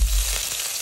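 Cumin seeds and green chili sizzle in hot oil in a kadai, a brief, close, bright crackling hiss with no talk.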